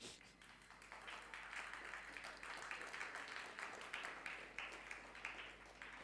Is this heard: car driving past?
no